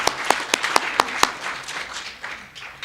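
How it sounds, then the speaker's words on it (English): Audience applause after a lecturer's call for a round of applause, a burst of sharp individual claps at the start that thins into scattered, softer clapping in a hall. "I think they deserve a round of applause."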